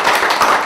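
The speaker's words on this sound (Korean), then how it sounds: "큰 박수로" Brief burst of dense hand clapping from an audience at a Korean political party gathering, loud and close, continuous through the short moment.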